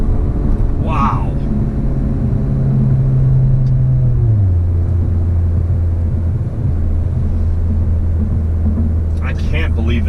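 A DSG-equipped car with a high-torque tune accelerating: a loud, steady engine drone that drops in pitch as it shifts partway through, with a voice speaking briefly at the start and again near the end.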